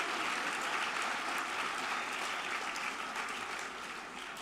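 A big round of applause at the PIA National Awards for Planning Excellence 2022 for the Young Planner award winner, a steady, dense clapping from a large audience that holds throughout and fades slightly at the end.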